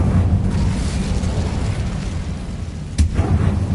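Incendio fire spell cast in Hogwarts Legacy, a sustained roaring, crackling blast of flame with a sharp burst near the end, loud and continuous.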